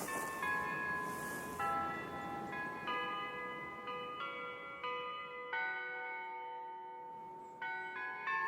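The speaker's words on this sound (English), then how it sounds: "That there bell's been ringing these 10 minutes." A church bell rings in a radio drama scene, steady repeated tolls with long ringing overtones, moderately distant and even-paced throughout, with no voices over it.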